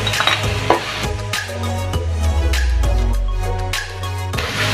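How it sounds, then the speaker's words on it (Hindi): Chopped tomatoes frying with homemade masala and ginger-garlic paste for Bihari-style fish biryani: a loud, close sizzle with scraping, clattering stirring in the pot over a low steady hum. "आप कटे हुए टमाटर डाल दें"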